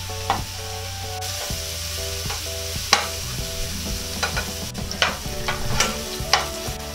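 Garlic for squid adobo fries in a pan and is stirred until light brown. A steady close sizzle runs under repeated scraping and tapping of a utensil against the pan, with no talking.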